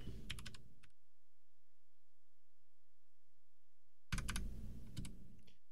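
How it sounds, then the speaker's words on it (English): Typing on an Anne Pro 2 keyboard in two close bursts of quick, clattery keystrokes, separated by a few seconds of near silence. "Well, I'm gonna go type, do my terrible typing."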